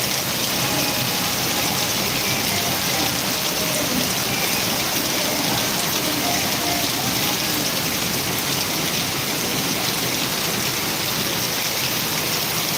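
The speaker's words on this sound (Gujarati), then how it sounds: "સૌથી વધુ ધોધમાર વરસાદ ખાતું રહ્યો છે પાંથાવાડા વિસ્તારમાં" Heavy rain pours down steadily in the Panthawada area of Dantiwada taluka, a dense, loud, unbroken hiss with no voices.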